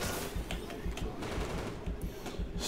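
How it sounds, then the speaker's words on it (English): Rapid shotgun fire in a Titanfall-style shooter game, dense overlapping blasts and impacts in a continuous chaotic barrage with faint voice underneath. "So many shotgun shots."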